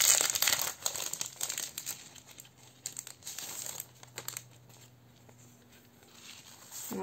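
Paper crinkles and tears as a cheap paper envelope is opened close by, with rustling handling noises running throughout and a faint voice in the background.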